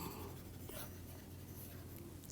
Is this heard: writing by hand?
yes